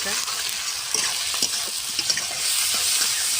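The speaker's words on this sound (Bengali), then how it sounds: "ভালো করে কষে নেব।" Chopped onion with raw tomato, turmeric, salt and chilli powder sizzles steadily in a pan while it is sautéed for a mutton curry. Soft stirring clicks and scrapes cut through the hiss, and no one speaks.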